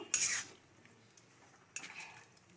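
Coconut naru mixture being stirred in a pan: two short metallic scrapes of a spoon against the pan, about a second and a half apart, close and fairly quiet over a faint background.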